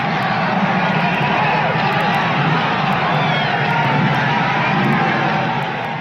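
A crowd of Québec independence supporters massed before Montreal's city hall cheers in a steady, dense roar with scattered shouts and whoops, holding loud and unbroken throughout before easing slightly at the end.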